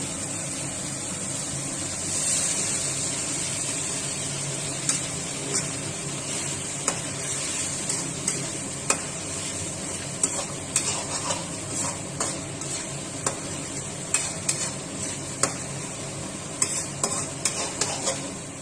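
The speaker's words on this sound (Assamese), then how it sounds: "এতিয়া আমি এইখিনি অলপ ভাজি ল'ম।" Tomato, onion and cashew paste fries in a pan for an Assamese rohu fish kalia, with a steady close sizzle and repeated sharp clicks from a spoon stirring and scraping against the pan.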